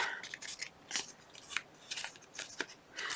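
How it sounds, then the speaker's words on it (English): A Fiskars corner rounder punching through paper, a series of about eight quiet, close, crisp clicks and snips spaced unevenly with soft handling rustles between them. "This Fiskars corner rounder does work well."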